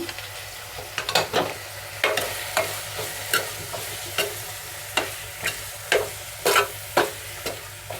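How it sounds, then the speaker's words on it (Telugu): A kohlrabi and pea kurma seasoned with turmeric is stirred in a pan, with regular scraping strokes about twice a second over a soft, steady sizzle. "చిటికెడు పసుపు వేసుకున్నాం కదా ఇప్పుడు ఒకసారి బాగా కలుపుకున్నాము"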